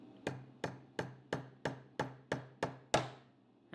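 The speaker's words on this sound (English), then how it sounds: "You hear it hit the firing pin right there?" A brass punch is struck with a hammer to drive in the firing pin retaining pin of a SIG Sauer P226/P229 pistol: nine sharp, evenly spaced metallic taps, close and clear, the last one slightly louder.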